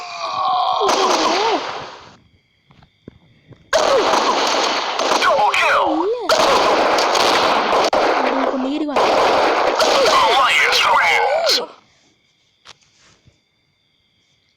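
Gunfire in the online shooter Crisis Action, with dense bursts of rapid shots and explosions repeating across the clip, heard up close in several long volleys separated by short pauses, while someone talks over the game.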